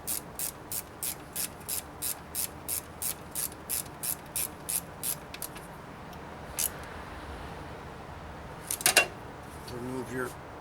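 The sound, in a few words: ratchet tightening a bolt on a MINI Cooper S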